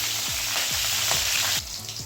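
Whole spices such as stone flower, cardamom and a piece of cinnamon crackle in oil with three halved green chillies, a bright close sizzle with quick crackles and spoon clinks that thins out near the end.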